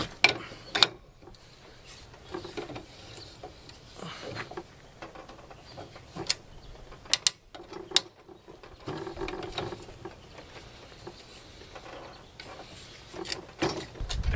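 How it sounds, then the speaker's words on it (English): A hand tap cutting threads into a hole in metal plate, turned back and forth to make intermittent sharp metallic clicks and ratcheting creaks, close by, with quiet gaps between strokes. "The way it cuts threads into a hole is you turn it a little bit and then turn it the opposite direction"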